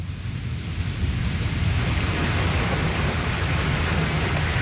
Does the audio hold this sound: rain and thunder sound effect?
yes